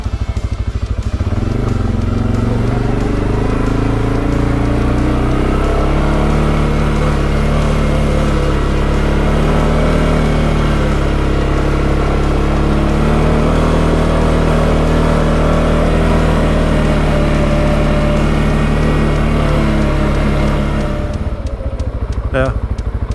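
Cfmoto Cforce 520 L ATV engine droning loud and close as it climbs uphill, a steady throaty rumble with shifting revs that holds for about twenty seconds before easing off.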